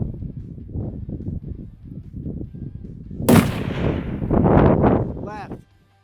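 A single loud rifle shot fired at an aoudad ram in windy backcountry, a sharp crack around the middle that rolls out into a long echoing report, with people talking quietly before it and wind noise throughout.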